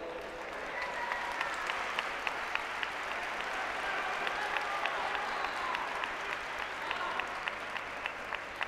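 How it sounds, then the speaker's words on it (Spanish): An ovation for the wrestler Rebeca at the 2022 Leonese wrestling team league final: steady, dense applause from the crowd, sustained throughout with scattered sharper claps. "La ovación para Rebeca"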